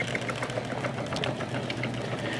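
A homemade poultry plucker driven by a salvaged motor runs steadily close by, a whirring, chattering mechanical drone with faint rhythmic knocks and no talking.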